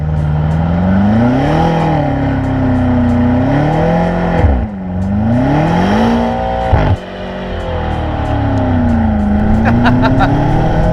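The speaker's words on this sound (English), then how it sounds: "I think we gotta end this with a little burnout" BMW M5 Competition doing a burnout in two-wheel-drive mode, the engine revving loud and close in rising and falling surges with tire roar, briefly dropping twice before climbing again.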